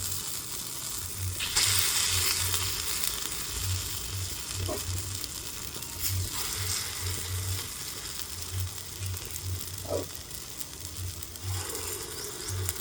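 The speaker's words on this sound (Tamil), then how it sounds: "நாங்கள் விடுற குண்டு தோசையும் நல்லா பொரிஞ்சு வரும்" Gundu dosai batter fries in a paniyaram pan, a steady loud sizzle and crackle that runs throughout, with occasional soft clinks and stirring sounds and no talking.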